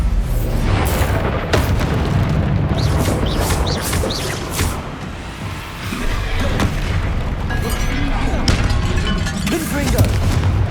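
The Bombarda blast spell is cast against a troll in Hogwarts Legacy. Loud booming explosions and crackling bursts follow one after another over dense combat noise, with a voice intermittently present.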